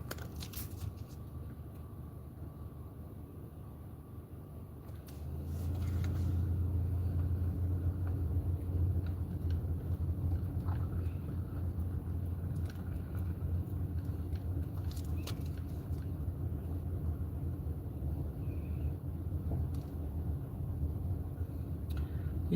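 A car rolls slowly along a quiet park road, its engine a steady low rumble that swells slightly after the first few seconds and then holds even throughout, with no voices.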